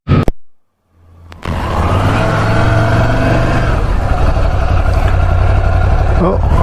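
A motorbike engine runs steadily and loud after a brief start, its continuous rumble with some revving sitting close and filling the clip.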